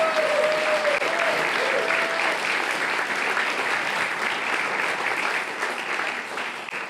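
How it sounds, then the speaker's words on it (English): A crowd at a Senate District 34 political rally gives a round of applause, a continuous wash of many hands clapping that holds steady and loud throughout before tapering slightly at the close. "Could we have a round of applause for him?"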